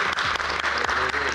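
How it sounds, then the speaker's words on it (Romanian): Studio audience applause at the close of a television talk show, brisk dense clapping heard loud and near for a short burst. "Puteți să aplaudăm"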